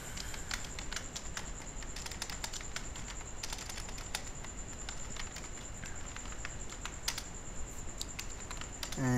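Steady, quiet clicking of keys on a computer keyboard while writing code for a MySQLi database project, irregular taps and short flurries running throughout with no voice present.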